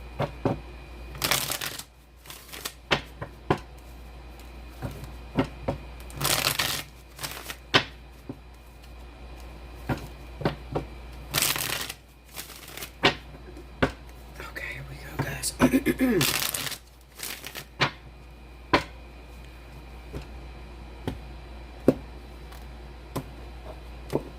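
Tarot cards are shuffled in repeated bursts of crisp riffling and snapping, close and fairly loud, separated by short pauses with a low steady hum underneath.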